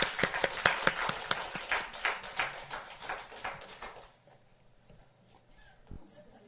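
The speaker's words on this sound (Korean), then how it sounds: "박수로 한번 환영하도록 하겠습니다." An audience claps in welcome at a Korean church's Friday all-night service. A dense, lively burst of hand claps lasts about four seconds, then fades into quiet room tone.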